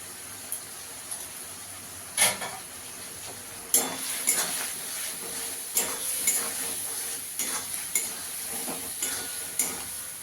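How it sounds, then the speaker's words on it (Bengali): Kashmiri chilli powder, cumin and coriander powder masala being stir-fried in a pan for a pointed gourd curry, a steady sizzle broken by repeated scraping strokes of a spoon against the pan. "মশলাটাকে ভালো করে কষিয়ে নেব।"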